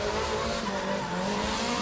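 Loud, continuous roar of an SR20-powered Nissan 180SX drift car at a D1GP event in Malaysia, rising harmonic whine and tire squeal layered over it, close and sustained throughout.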